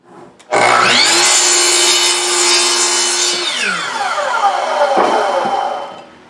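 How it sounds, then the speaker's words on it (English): A power saw cuts through a wooden piece for a phone stand. The blade spins up loud and steady, bites into the wood for a few seconds, then winds down as it slows to a stop. "this piece I'm deliberately cutting oversized because I'll have to go back and trim that down to fit later"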